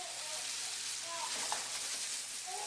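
Butter melting in a pan with chicken marsala, a soft, steady hiss and faint sizzle with a few small pops, quiet and continuous throughout.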